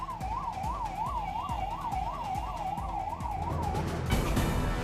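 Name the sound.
civil defence mock drill siren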